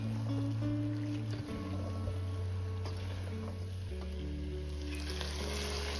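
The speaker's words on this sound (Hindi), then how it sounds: "तो मैं यहाँ पे डाल रही हूँ गोभी इसमें। और गोभी को हमने कोई 5-7 मिनट्स के लिए अच्छी सी भुनाई" Cauliflower sizzles and fries in hot oil in a home kitchen, a steady crackling hiss with a low hum underneath, close and continuous with no talking.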